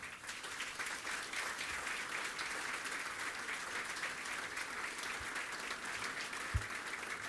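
An audience at a reception applauds young athletes, sustained even clapping from a sizeable crowd heard at a moderate distance throughout, with a few louder claps standing out.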